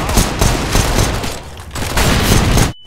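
Loud, close CS:GO gunfire in a competitive match: a dense stream of rapid shots almost without gaps, easing slightly midway, then cutting off abruptly just before the end.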